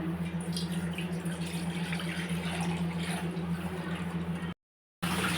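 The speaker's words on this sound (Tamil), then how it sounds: "இப்போ 1/2 லிட்டர் பால் அது பாத்திரத்தில் ஆட் பண்ணிக்கலாம்." Milk pours steadily into a pot over a low, constant hum, then stops briefly near the end.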